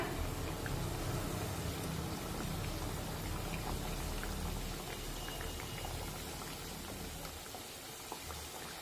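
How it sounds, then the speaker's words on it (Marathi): Bajra and methi (millet and fenugreek) vadas fry in hot oil over medium heat, giving a steady, close crackling sizzle with fine popping throughout and no voices. "साधारण 1 मिनिट तरी हे वडे छानपैकी एका बाजूने तळून घेऊया आणि त्यानंतर पलटून घेऊया"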